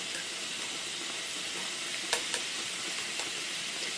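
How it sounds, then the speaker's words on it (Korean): Beef frying in a pan for a Japanese-style beef rice bowl, a steady broadband sizzle with a few sharp pops and crackles near the middle, no talking. "불 조절하시면서 고기 먼저 익혀주시고"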